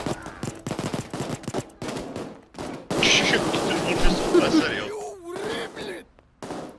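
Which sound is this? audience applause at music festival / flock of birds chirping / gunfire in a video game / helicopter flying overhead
gunfire in a video game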